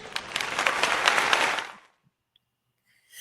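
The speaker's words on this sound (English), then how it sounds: "That does deserve a round of applause." Enthusiastic applause from a podcast audience, a dense burst of clapping lasting about a second and a half before cutting to silence, with a faint rustle at the very end.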